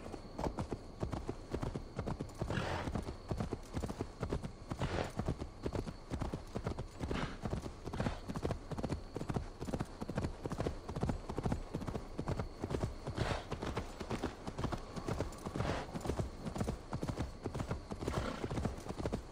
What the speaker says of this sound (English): Horsey, come on, horsey.